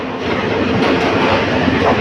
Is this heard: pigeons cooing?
no